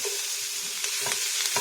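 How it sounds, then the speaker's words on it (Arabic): Diced onions sauté in butter in a pan, a steady close hiss of sizzling with faint stirring bumps underneath. "انا مقطعه بصلتين مكعبات، هنزل بيهم كده واخليهم ياخدوا تشويحه"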